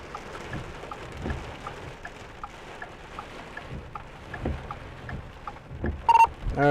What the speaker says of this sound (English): All right, just got into the rain.